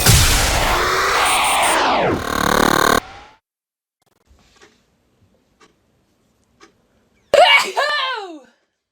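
A woman sneezes and strains to hold back the achoo, giving loud close strained bursts at the start, then near silence with faint ticks, and a sharp sneezing burst near the end.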